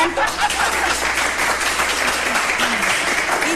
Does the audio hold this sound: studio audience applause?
yes